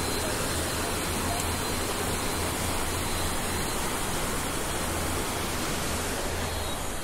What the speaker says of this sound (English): you will cross this bridge and see this beautiful river